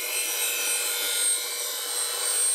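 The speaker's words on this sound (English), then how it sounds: "You're gonna see me grind, I'm gonna be taking a lot off this heel." Steel bowl gouge held against a grinding wheel while heavy stock comes off its heel, a steady abrasive hiss running unbroken and fairly loud, with no talk.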